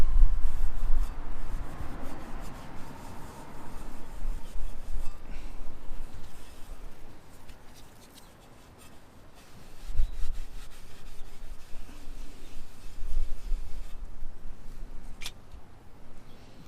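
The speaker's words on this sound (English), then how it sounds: "you can wipe it down real quick so you can get some eyes on it" Cloth rubbing grime off a titanium or stainless steel exhaust pipe, a continuous close scratchy wiping that swells and eases in strokes over several seconds.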